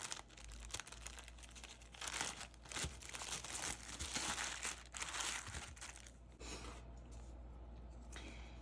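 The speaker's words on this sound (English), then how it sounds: "I'm going to throw it in a Ziploc bag just to have for later" Clay pushed into a Ziploc plastic bag, crinkling and rustling at close range, quiet and continuous, with no speech.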